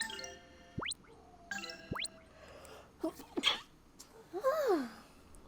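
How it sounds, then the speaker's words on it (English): A single short sneeze from a person playing Grandia 2, faint against game jingles and chiming sound effects. "Had a little sneeze."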